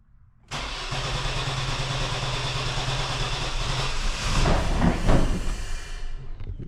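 A Chevrolet 4.3 Vortec V6, pulled for a rock crawler build, cranks and catches about half a second in, then settles into a steady running roar that surges louder near the end before cutting off.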